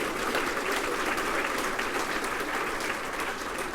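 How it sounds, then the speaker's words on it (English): Steady, full audience applause at a regional business gathering celebrating women in business, a dense wash of clapping with no voices over it. "A big round of applause for women in business."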